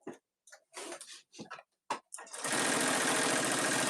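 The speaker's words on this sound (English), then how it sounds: "I am going to hold my top thread for the first couple stitches so that I don't have nesting underneath" A sewing machine stitches a boxy bag, starting with a steady, loud mechanical whir that runs alone after a few short bursts of talk.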